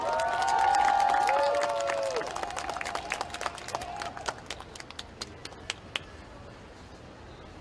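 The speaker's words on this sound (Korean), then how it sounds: "큰 박수 부탁드립니다." A campaign rally crowd applauds and cheers as a former presidential chief of staff is introduced, loud massed clapping and shouting swelling early, then thinning into scattered individual claps over a mic voice.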